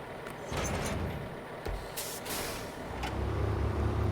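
Air brakes on a truck in the SnowRunner video game, several short sharp hissing bursts over a low engine rumble, the engine swelling louder toward the end, with no speech.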